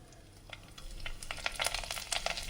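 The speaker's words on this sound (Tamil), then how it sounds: "இது கொஞ்ச நேரம் பொரியட்டும் ஆயில்லையும்." Fennel seeds and curry leaves frying in hot oil for a chicken dish, a close crackling sizzle with sharp pops that grows busier and louder over a couple of seconds.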